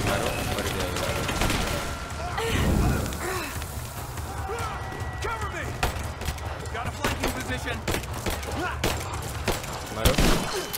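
Gunfire aimed at enemies in the action game Rise of the Tomb Raider rattles in repeated loud bursts and thuds amid other game noise, with someone speaking over much of it.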